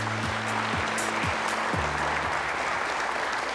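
Audience applause at a formal government policy announcement event, a steady, even wash of clapping from a large hall that continues unbroken throughout, with a faint musical tone underneath.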